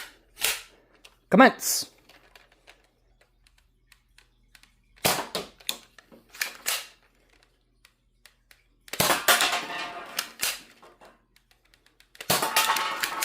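A Blitzfire toy revolver fires Nitro Shot foam darts, giving several sharp snapping shots spaced seconds apart with short clattering bursts between them, and a voice briefly speaks.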